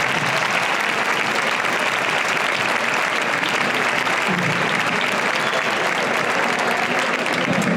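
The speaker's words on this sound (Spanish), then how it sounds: "Un aplauso también" An audience applauds a band in a dense, steady wave of clapping that lasts the whole stretch and stays loud, with faint voices mixed in.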